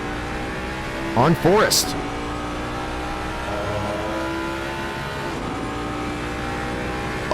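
BMW M4 GT3 race car at Silverstone in a console racing game, engine humming steadily at mid volume with a brief rising whine and squeal early on, under a commentator's voice.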